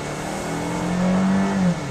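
A 2011 Toyota Venza with a 4-cylinder engine accelerating from about 18 mph: steady engine drone that swells as revs climb, heard from inside the car, then dips slightly at the end.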